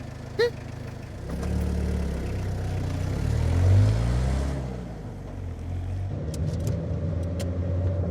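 An engine revs and a car pulls away, the sound swelling to a peak in the middle and then easing off into a softer, steady hum as it moves on, with faint voices near the end.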